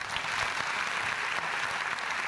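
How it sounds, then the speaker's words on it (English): An audience at a management summit claps in a dense, steady round of applause heard from within the hall. It fills the whole stretch without pause and has no speech over it. "is that clap for me or for His Royal Highness?"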